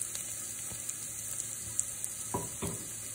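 Onion and vegetables for a chicken and sausage gumbo sauté quietly in a pan, giving a soft, steady sizzle with a few light scrapes from a utensil near the end.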